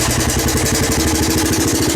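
A 1985 Honda ATC 250SX three-wheeler's engine runs steadily after starting, a loud close-up idle with a dense rhythmic low-end chug and mechanical clatter throughout, no voices.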